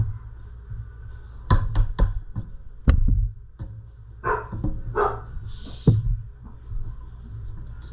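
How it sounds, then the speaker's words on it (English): A dog named Daisy barks in the background of a garage where a Predator 212cc small engine is being torn down, several sharp distant barks mixed with knocks and taps from work nearby. "That's a dog in the background."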